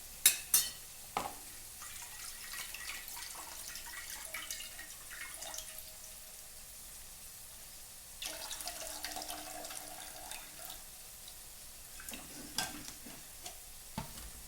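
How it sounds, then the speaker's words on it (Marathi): Poha rinsed with water in a home kitchen, a quiet running trickle and swish with a few clinks at the start and renewed splashing later, faint and close. "अजून एका पाण्यानं"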